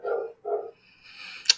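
A dog barks in the background, two short yips followed by a longer rising whine and a brief sharp sound, moderately close, with no speech over it.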